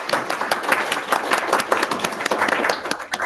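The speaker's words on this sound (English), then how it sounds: "Let's give another round of applause for Argentina." Audience applause at a workshop session, steady dense clapping from a room of people, fairly loud and continuous for the whole stretch without talk.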